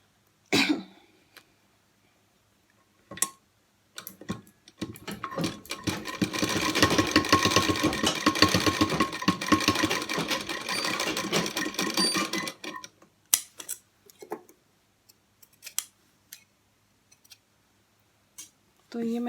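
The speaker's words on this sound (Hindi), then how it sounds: "तो देखिए, मैं सिलाई लगा लेती हूँ।" A domestic sewing machine stitches three panels of a small Laddu Gopal dhoti together in a steady whirring run of several seconds, framed by scattered clicks, handling noises and a brief cough.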